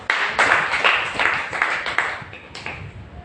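A church congregation claps at a sermon, a burst of quick, uneven hand claps close by that fades within a few seconds, with no talk over it.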